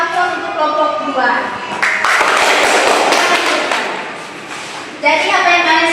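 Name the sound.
classroom applause for group two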